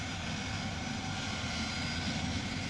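Aeroplanes taxiing at an airport give off a steady, unbroken engine roar, even in loudness throughout and heard alone without voices.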